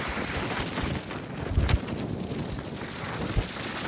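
Strong wind of 25 to 30 knots at sea aboard a sailboat on an Atlantic crossing, a constant rushing roar buffeting the microphone with a few low thumps, and no one speaking.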